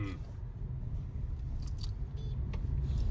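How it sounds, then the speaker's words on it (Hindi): Low steady engine rumble of a car driving slowly in second gear during a driving lesson, with faint light clinks and rattles over the continuous cabin drone. "अब गाड़ी सेकंड गियर में एक्टिव हो गई"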